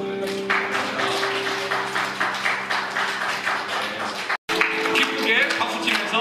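A Korean church congregation applauding in praise after prayer, rapid rhythmic clapping blended with sustained music or singing, briefly cut off by a short gap before resuming.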